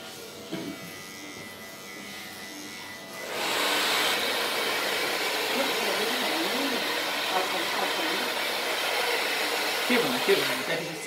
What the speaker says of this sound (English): That's the hair dryer.